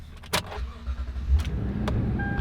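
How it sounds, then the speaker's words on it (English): A lifted Toyota pickup truck's engine cranks briefly and catches, then settles into a steady, close idle with a low rumble. "Well, it's Toyota, so it starts right up."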